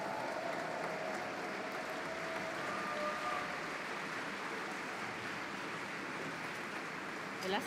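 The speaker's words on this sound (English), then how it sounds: "So give a huge applause to Republica founder Markus Beckedahl." A conference crowd at re:publica 2023 in Berlin applauds as the founder is called to the main stage. The sustained, even clapping of a large hall holds for several seconds, heard from a distance and quiet overall, ending in a brief louder swell.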